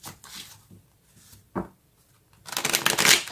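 Tarot cards are shuffled by hand in short bursts, close and fairly loud. Soft riffles and flicks come first, and a brisker, louder shuffle follows near the end.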